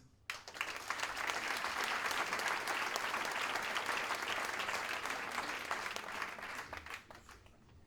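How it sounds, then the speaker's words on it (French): A public meeting audience applauds Christophe Assenat with sustained, dense clapping that starts abruptly, holds steady and loud for several seconds, then thins out toward the end. "je vous demande d'applaudir Christophe Assenat"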